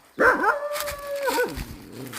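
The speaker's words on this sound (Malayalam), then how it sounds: "അവൻ എന്നെ കണ്ടുകൊണ്ട് കുരയ്ക്കുന്നു" A roadside dog gives a single drawn-out, howling bark lasting over a second, close and loud, then goes quiet in a calm outdoor setting.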